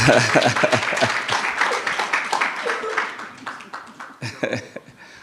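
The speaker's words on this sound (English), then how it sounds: "Let's give another round of applause" Crowd applause at an investment roundtable, a dense wash of clapping that carries through most of the clip, with voices mixed in and the clapping thinning toward the end.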